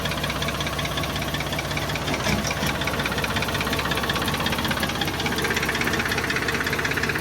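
A used New Holland TC48R farm tractor's diesel engine runs at a steady idle with a knocking, rattling rhythm, loud and close, throughout with no talk.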